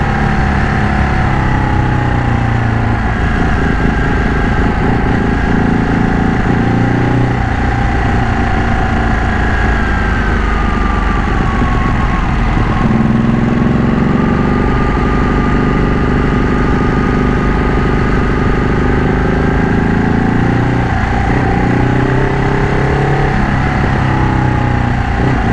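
A Ducati Panigale 1199 Tricolore with a Termignoni exhaust idles up close, a steady, loud, deep rumble that holds for the whole stretch with slight shifts in pitch.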